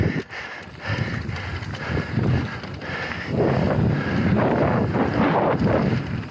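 Strong wind buffets the microphone on a mountain bike ride down a loose trail, with loud, gusty low roaring that swells and eases and comes alongside rattling and bumping of the bike.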